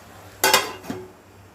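A metal lid clanks onto a pot of brinjal masala curry, one sharp clatter followed by a softer second knock, close and fairly loud, with no talking.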